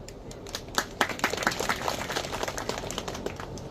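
Applause from a crowd at an outdoor political speech in Jhabua, a dense run of sharp handclaps building to a steady roar and then continuing evenly, with no talk over it.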